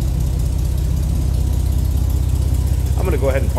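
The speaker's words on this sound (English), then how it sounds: "A little rumble, kind of old school hot rod sound out of that inline six under there." A steady low rumble from the inline-six engine of a 1954 Chevrolet Bel Air idles throughout, with a voice briefly speaking near the end.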